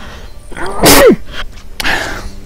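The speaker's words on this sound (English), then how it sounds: "I start off by giving you guys a good sneeze into the microphone" A single loud, close sneeze into a microphone bursts out sharply, followed by a softer breathy exhale and quiet handling sounds.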